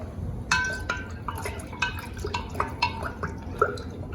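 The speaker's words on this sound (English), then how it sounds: "take your half a cup of simple syrup, pour it right in there. Stir that up really well" Simple syrup is poured into a blueberry lavender lemon drop cocktail and stirred, giving a run of light clinks and drips against glass at an uneven rhythm, close and clear with no talking.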